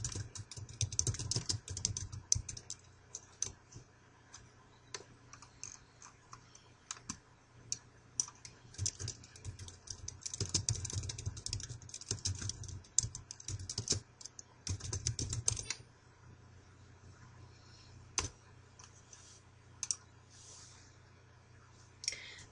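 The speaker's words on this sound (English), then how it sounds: "Then begin typing your changes." Fingers type on a computer keyboard in quick, uneven bursts of close, light key clicks, with brief pauses between runs and a quieter stretch near the end.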